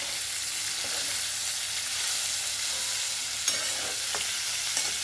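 Bitter gourd slices for a Telangana-style fry sizzle steadily in a pan, with a continuous hiss and a few faint scrapes and knocks as they are stirred.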